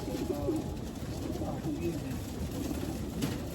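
Racing pigeons coo softly in a loft or road-training setting, low murmuring calls repeating over steady background noise, with people talking nearby.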